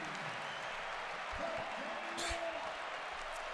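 Home crowd at a Michigan Wolverines men's basketball game against Illinois, a broad wash of cheering and applause filling the arena, with a couple of low thuds and a brief sharp burst partway through.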